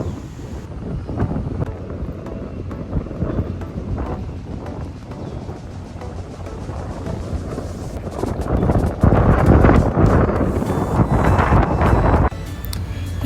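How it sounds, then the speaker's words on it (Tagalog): Strong wind gusts roar into the microphone at Longshan Temple in Taipei, a rough continuous rumble that swells louder toward the end before easing, with no voices over it. "Naririnig niyo ba yung hangin, guys? Ang lakas, no?"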